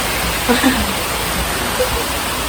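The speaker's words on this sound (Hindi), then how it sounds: "क्या खतरनाक बारिश शुरू हो गई।" Steady, dense rain hiss fills the whole stretch, a broad constant wash with a few faint voice fragments poking through near the start.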